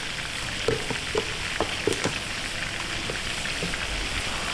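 Onion with cardamom, cinnamon and cloves frying in a large pot for kala bhuna makes a loud, dense, continuous sizzle with scattered crackles and stirring scrapes.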